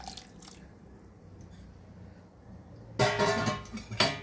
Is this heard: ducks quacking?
no